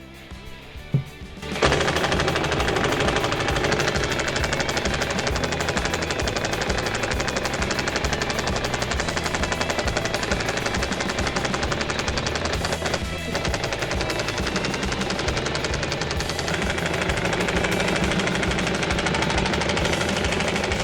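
A Dnipro-M impact driver runs in its third mode, a loud, continuous rapid hammering rattle that starts after a brief pause and keeps going steadily for about twenty seconds, with no talk over it.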